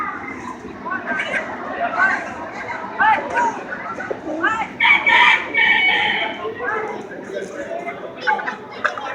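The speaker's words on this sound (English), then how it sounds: "That's a long-legged rooster there" Roosters and chickens in the poultry barn at a county fair, with a long-legged rooster crowing and clucking in bursts, fairly close, while people chat over and between the calls.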